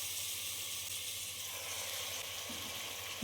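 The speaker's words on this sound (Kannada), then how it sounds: "ಇವಾಗ ಇದಕ್ಕೆ ಮಟನ್ ಹಾಕೋತಾ ಇದ್ದೀನಿ." Mutton pieces hitting hot oil with onions in a pot for mutton curry, giving a steady, soft sizzling hiss with no one speaking.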